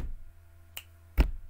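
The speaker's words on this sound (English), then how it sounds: "Just trying to think of like a clicking sound maybe." Two short, crisp clicks spaced about half a second apart, sounding like a button-click effect for a game interface, close and dry over a faint steady hum with no talking.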